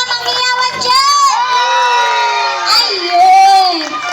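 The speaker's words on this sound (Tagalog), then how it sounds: "Wala po ba mga sigaw at palakpakan na may kasamang hiyawan dyan?" An outdoor barangay concert crowd with many children and adults shouting, whooping and cheering together at a high pitch, loud and sustained for several seconds.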